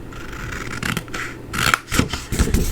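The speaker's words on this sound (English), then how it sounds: "So while we're here, we're going to snip up" Scissors snip through cardstock up to the score lines while a curvy card gift box is assembled, a handful of short crisp cuts with light paper scraping between them, close and with no talking.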